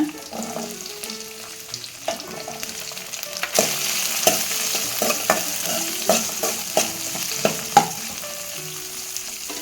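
Chopped small onions (shallots) hit hot oil in a pan while cooking a green turkey berry curry, frying with a steady sizzle as a spoon stirs and clinks against the vessel at irregular intervals.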